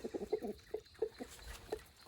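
Several chickens cluck softly in short, irregular bursts, close and fairly quiet, with no talking.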